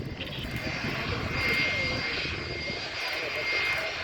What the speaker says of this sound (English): And we have another flyover to our left, just approaching over the top of the control tower.